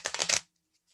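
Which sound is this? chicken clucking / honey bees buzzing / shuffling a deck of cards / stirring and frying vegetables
shuffling a deck of cards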